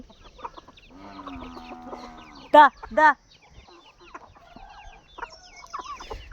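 Chickens cluck softly and repeatedly in the background, with a couple of loud, sharp squawks, while a person calls out to them.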